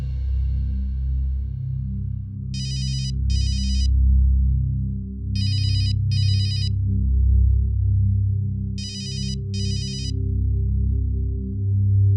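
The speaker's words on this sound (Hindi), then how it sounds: "सिमी तेरा फोन आ रहा है।" A phone rings in three paired bursts of a bright electronic ringtone, spaced evenly apart, over a low steady background hum.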